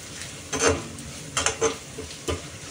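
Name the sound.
stirring red chili powder in frying pan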